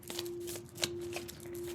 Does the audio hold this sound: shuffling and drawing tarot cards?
yes